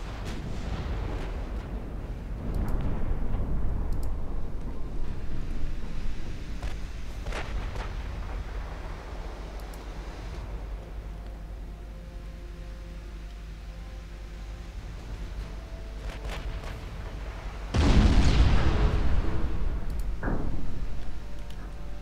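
Warship guns firing in Ultimate Admiral Dreadnoughts, naval battle with battleships and destroyers: a series of deep booming salvos spread over twenty seconds, mostly distant and rumbling, with one much louder, closer blast near the end.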